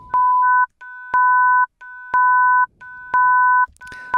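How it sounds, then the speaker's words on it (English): Two synthesizer sine oscillators at 1 kHz and 1.5 kHz sound together as a perfect fifth, pulsed in four even half-second bursts separated by short gaps, clean and steady without speech. "So that is the sound of a fifth."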